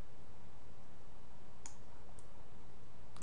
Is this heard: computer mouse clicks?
yes